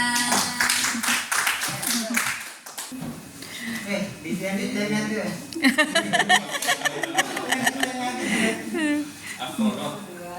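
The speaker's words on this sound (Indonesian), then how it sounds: "Oke, tepuk tangan." Clapping from a group of teachers in a classroom workshop on managing conflict, scattered bursts of hand claps mixed with chatter and light laughter.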